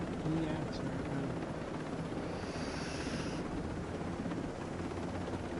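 A helicopter's rotor and engine drone steadily throughout a PS4 video game, loud and continuous with a faint breathy undertone and no pauses.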